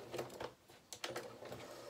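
A sewing machine with a walking foot stitches a dress skirt and waist stay, giving a quick, uneven run of mechanical clattering pulses, close but fairly quiet.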